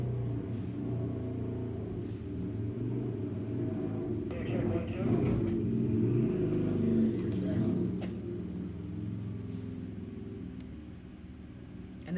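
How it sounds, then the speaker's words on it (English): A steady vintage racing motorcycle engine rumble carries throughout, swelling louder in the middle as if revving or passing near, then easing back to a constant drone. "And that motorcycle was just running because it just creeped around the front of the timing building that Jay and I are in right now."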